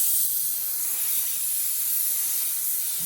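Epoxy primer sprayed onto the bare metal hood of a Chevrolet C10 show truck, a steady continuous hiss held unbroken for a few seconds at close range with no talking.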